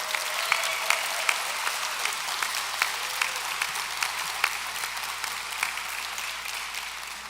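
Audience applause at a graduation ceremony for welding, truck and automotive technology students, steady rapid clapping from a large crowd throughout, indoors at an even moderate level.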